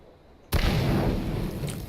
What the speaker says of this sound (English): Ooh, and we're hearing the explosions go off.